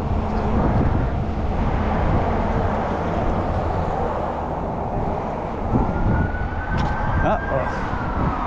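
An ambulance siren on a city street, its wail rising faintly over steady traffic rumble and passing cars, the tone sweeping near the end as people talk nearby.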